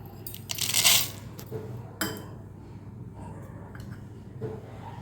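Dried chilies and fennel seeds drop into a mixer grinder jar, with one close, bright rattling clatter near the start, a shorter one after, and faint taps against a low background hum.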